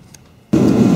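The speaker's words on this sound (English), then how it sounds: "I'm running the heater just to drive off the moisture." A heater in a workshop switches on halfway through with a sudden, loud, broadband roar, after near quiet, and the steady rushing noise continues to the end.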